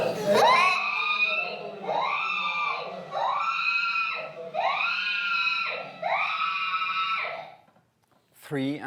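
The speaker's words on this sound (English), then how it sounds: "Not all of them were screaming like this, but many of them were screaming like this." Injured children screaming in a hospital setting: a run of five long, harsh, wavering screams one after another, loud and close, with a brief sharp cry at the end.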